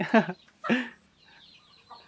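Fighting chickens let out of their breeding pen on a Thai farm give a couple of close clucks, followed by softer bird calls in the background.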